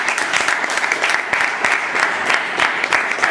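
An audience applauds Pramukh after his speech, a steady, fairly loud patter of many hands clapping continuously with no talking over it.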